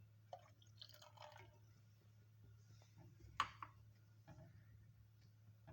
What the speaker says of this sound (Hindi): अब मैं इसमें सिरका डाल रही हूँ